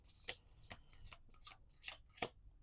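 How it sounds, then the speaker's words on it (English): A deck of cards being shuffled at close range in a tarot-style reading, several crisp riffling bursts with short pauses between them, quiet and alone. "one more shuffle here"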